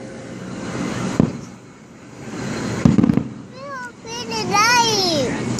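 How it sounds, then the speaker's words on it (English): Fireworks bursting at a seaside shore, sharp booms at intervals amid crackling, with rising whistling streaks near the end and children and adults chattering throughout. "Joy, you gonna come look at the fireworks?"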